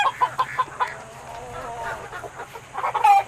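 Chickens cluck close by on a farm, a run of short, rhythmic clucks at the start, quieter muttering in the middle and a louder squawk at the end.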